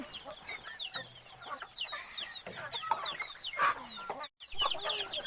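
Farm chickens clucking and squawking in a busy flock, overlapping calls close by and fairly constant, with rustling background and no talking.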